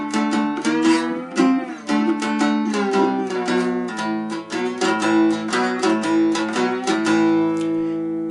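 Slide playing on a two-string cigar box guitar works through the second line of a 12-bar blues, with steady rhythmic strums and gliding slide notes, close, bright and continuous, with no voices.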